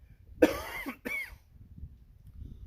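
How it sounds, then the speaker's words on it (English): Two sharp coughs in quick succession, close and fairly loud, followed by quiet room noise. "I got a cough, sorry"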